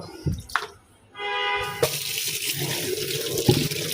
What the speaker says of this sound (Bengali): লাউটাকে না আস্তই ধুয়ে ফেলতেছি